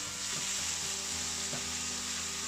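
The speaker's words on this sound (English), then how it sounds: "Finally, mix everything together" Julienned potato strings stir-fried and tossed in a hot pan with hot peppers, a steady close sizzle with a few soft scraping stirs, no talking.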